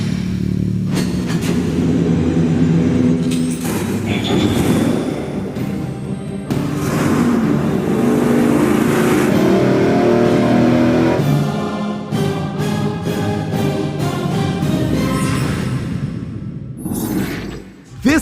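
A Ford 408 Cleveland V8 running on a dyno through a $40 muffler, a loud continuous engine roar with surges and revving throughout, alone without talk.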